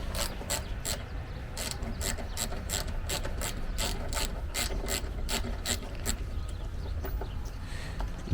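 Rapid ratchet clicks from a hand wrench driving T40 bolts at the B pillar in the cargo area of a Jeep Wrangler JKU, heard close up in steady bursts of clicking throughout.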